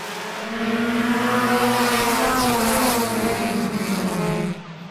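Race cars in a heat race roar past in a pack, layered engine drones rising and sliding in pitch as they sweep by, loud and sustained before dropping away at the end.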